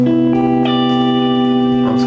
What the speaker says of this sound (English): First one is a major 9th chord. It sounds like this.